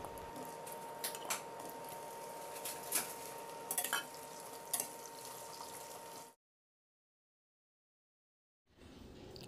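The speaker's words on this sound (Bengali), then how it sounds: "আলুগুলোকে প্রথমে একটু ভেজে নেব।" Potatoes fry in a pan for a banana flower dish, with a steady sizzle, several sharp clinks of stirring and a gap of silence before the frying resumes.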